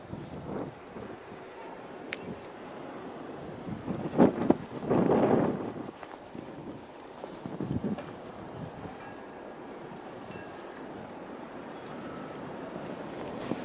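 Wind gusting through greenhouse houses during a snowstorm, a steady outdoor rush and buffeting with a louder burst of gusts in the middle, then settling back to a constant blowing hiss.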